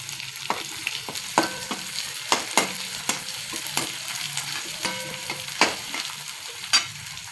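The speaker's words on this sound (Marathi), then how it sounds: "कांदा थोडासा परतून द्यायचा आहे।" Onion with curry leaves sautéing in a pan, with a soft continuous sizzle broken by regular sharp scrapes of the spatula, close and fairly loud, with no talking.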